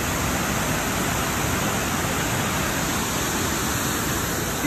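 Steady, unbroken roar of a waterfall at a tourist spot in Cerrito Plain, Tennessee, broadband and loud, holding even throughout with no voices over it.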